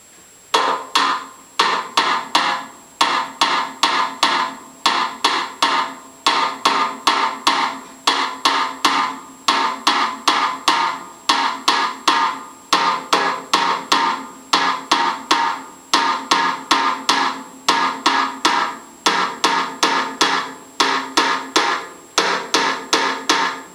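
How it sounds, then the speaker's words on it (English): Snare and bass drum play a Brazilian partido alto samba rhythm, a steady pattern of sharp, close strikes that repeats without pause for the whole stretch, with no voices. "This rhythm is called the partido alto rhythm, and it sounds like this."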